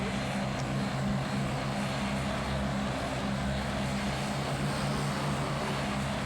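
A fixed-wing propeller aircraft in the Roblox pilot-training flight simulator drones at a steady pitch and level from start to end, with no speech over it.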